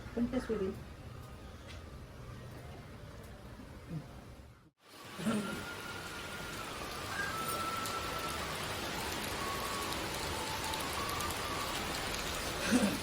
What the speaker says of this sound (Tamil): இங்க பாருங்க, நிறைய மழை பெய்யுது.